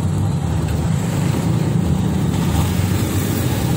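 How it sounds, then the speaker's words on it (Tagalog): Road traffic stuck in a morning jam near a market, the steady close drone of idling car and truck engines forming an unbroken low rumble. "Traffic talaga yan guys."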